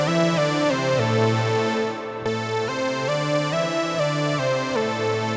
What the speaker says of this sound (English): And with the sub oscillator, you can switch between -1 and -2.